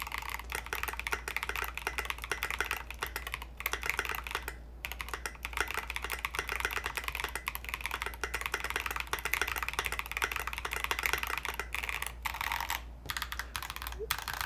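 Typing on a Smurve80 keyboard kit fitted with SA keycaps, a steady stream of fast clacking keystrokes with occasional brief pauses, heard close up over a low background hum.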